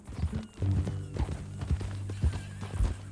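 In the video game Red Dead Redemption 2, a horse's hooves clop in a steady, close rhythm while the horse lets out a low whinny and snorts.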